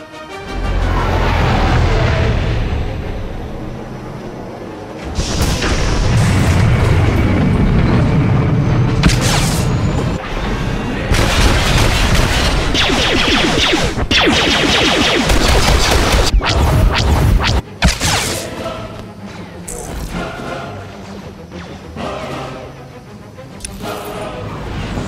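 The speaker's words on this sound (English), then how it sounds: "Artillery incoming!" Heavy artillery explosions in a Star Wars video game battle, a continuous barrage of loud booms, crashes and impacts with dense layered blasts and rumbling debris throughout.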